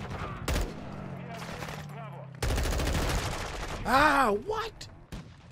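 Gunfire in Call of Duty: Modern Warfare II, sharp loud shots and a dense burst of rapid fire mixed with game effects, with a player briefly speaking over it.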